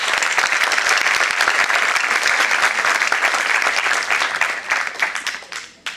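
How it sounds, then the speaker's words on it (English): A large audience at a youth brainstorming session gives a huge round of applause welcoming the panelists, dense and loud continuous clapping that holds steady for several seconds before thinning and fading at the end. "I request everyone firstly to welcome all our panelists with a huge round of applause"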